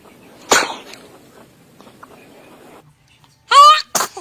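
A baby sneezes sharply once early on, then a soft murmur, and a louder sneeze pair near the end; brief voices sit between in a quiet room.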